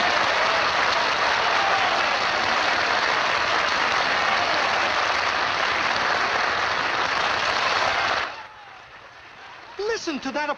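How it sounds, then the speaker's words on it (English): A large audience applauds in a dense, sustained roar of clapping for about eight seconds before it cuts off, followed by a voice speaking. "Listen to that applause."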